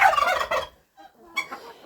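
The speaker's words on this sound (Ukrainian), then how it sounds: "Індик собі е, демонструє красу." A turkey gobbles loudly at close range while displaying for the hens, a rapid rattling call followed by a short pause and a second fainter burst.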